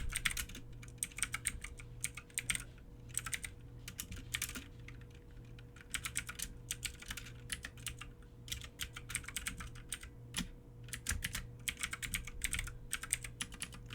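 Keys clatter on a computer keyboard while code is typed, quiet rapid bursts of clicks with short pauses between them, no voices.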